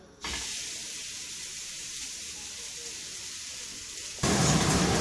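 Steak dropping into a hot pan, breaking into a steady loud hiss and sizzle held close, then surging sharply louder near the end as more meat hits the pan.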